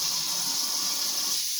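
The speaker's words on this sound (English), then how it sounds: "And we'll wash it with a nice hard stream of hot water" A hard stream of hot tap water runs over fruit being washed, a steady, close gushing hiss with no voices.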